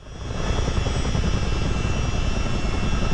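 A US Army Chinook twin-rotor helicopter hover-taxis down a runway in Microsoft Flight Simulator during a North Carolina exercise. Its rotor and engine drone rises quickly at the start, then holds as a loud, steady, close roar with no voices.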